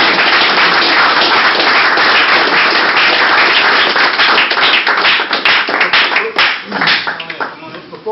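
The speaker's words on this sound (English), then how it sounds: "let's give a round of applause" An audience at an Army ceremony promoting an officer to Chief Warrant Officer 2 claps in dense, loud applause that thins and fades out over the last couple of seconds.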